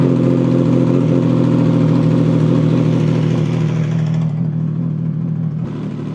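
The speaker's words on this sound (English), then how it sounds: "we'll do the first ever cold start on the brand new VANDEMON exhaust system" A CFMOTO 675SR-R triple fitted with a full titanium VANDEMON exhaust idles loudly and deeply on a cold start, a continuous close-up engine rumble that eases slightly toward the end.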